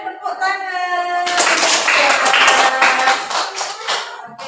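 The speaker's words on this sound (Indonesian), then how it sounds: "Boleh tepuk tangan." A short burst of clapping from a small group breaks in after a tone, continuing for a few seconds before fading, with talk mixed in.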